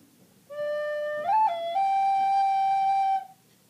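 The opening bar played on a recorder: a clear, breathy tone that holds one note, flicks quickly up and back, then settles into a long sustained note, solo and close.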